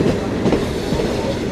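The Hazara Express rumbles steadily with clattering wheels as it nears Baldher railway station in Pakistan, a loud, continuous rolling noise heard from on board.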